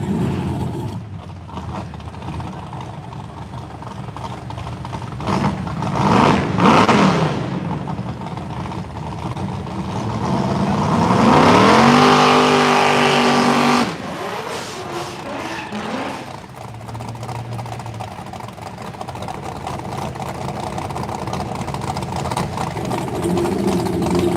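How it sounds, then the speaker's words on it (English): A Corvette and a Chevy Vega at a no-prep outlaw drag race: loud engine roar over crowd and track noise, with a sharp rising rev and surging acceleration midway, then steady engine rumble. "Carver going to be in a Corvette. Hampton, Chevy Vega"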